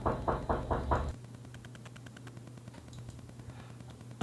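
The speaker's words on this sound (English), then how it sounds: "Here's knocking outside." Four or five quick, hollow knocks outside a home at the start, then a steady low mechanical hum with faint tapping carrying on behind it.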